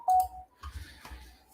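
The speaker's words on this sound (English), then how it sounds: "And that's my phone." A phone emitting a short sharp electronic tone at the start, followed by faint muffled tones and soft handling noise, close and brief.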